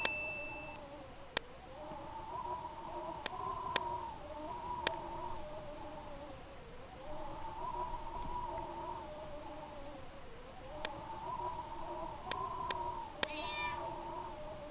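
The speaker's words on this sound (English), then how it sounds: "It's a cat!" A cat in the video game Fable meows again and again, its repeated wavering calls standing out clearly over a steady ambient game background, with a few soft chime-like dings mixed in.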